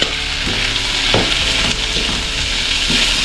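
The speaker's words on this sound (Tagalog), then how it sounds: "Gisa-gisa lang muna natin ito. Ngayon po ilagay na natin yung ating carrots ayan" Vegetables with carrots sautéing in oil in a pan, a loud steady sizzle close up with occasional scraping and stirring knocks, no talking.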